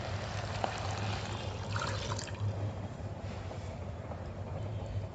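Water pours steadily into a pot of rice for ghee rice with a continuous splashing gurgle, close by, with no voices.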